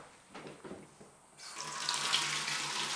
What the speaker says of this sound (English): and you're going, oh, Angela, it's a bathroom sink.